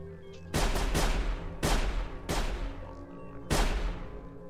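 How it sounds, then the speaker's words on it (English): Distant rifle shots ring out in the stealth survival game Sir, You Are Being Hunted, five sharp cracks with echoing tails spaced unevenly over a low ambient hum. "I hear shooting."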